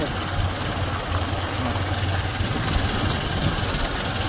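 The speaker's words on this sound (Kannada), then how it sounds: "ಆಕಾಶವ್ರು ರೈಡಿಂಗ್ ಮಾಡ್ಲತ್ತಾರ, ಬೈಕ್ ಅವರೇ ನಡೆಸ್ಲಕತ್ತಾರ." A motorcycle ridden at night out toward farm fields runs with a steady, continuous engine drone mixed with rushing wind noise, loud and close throughout with no breaks.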